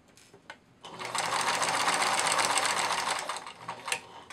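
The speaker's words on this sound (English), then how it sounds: "lowering my needle, lower the presser foot, then I'm going to backstitch" Domestic sewing machine stitching fabric for a plush otter toy, starting with a couple of short taps, then a steady fast whirring run of needle strokes close up, easing off at the end with no talk.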